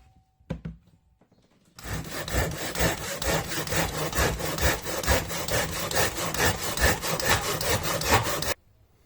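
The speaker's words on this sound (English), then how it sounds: "I started cutting the piece with my cheap jab saw" A cheap jab saw cuts through a piece of wood for a round three-legged side table, a rapid, even back-and-forth rasping that runs nonstop for about seven seconds after a couple of brief knocks.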